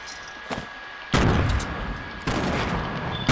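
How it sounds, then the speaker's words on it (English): Gunfire in the Fortnite battle royale video game, with two loud bursts of shots cracking in from above, each followed by a sustained rattle of sound, plus a softer pop just before. "they just now started shooting at us from the sky"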